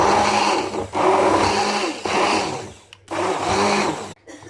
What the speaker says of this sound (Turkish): Şimdi tam olarak çırpıyorum.